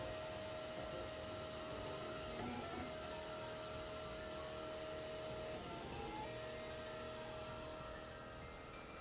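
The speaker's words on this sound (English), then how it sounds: "I'm going to be making all of my models using the FlashForge Dual Extruder Inventor printer" A FlashForge Dual Extruder Inventor 3D printer hums steadily while printing, with a sustained whine and faint stepper motor tones shifting pitch twice, heard alone at low level.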